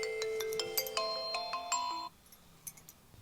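A mobile phone ringtone in a Chhattisgarhi comedy skit plays a bright, loud electronic melody for about two seconds, then cuts off abruptly, leaving faint background noise.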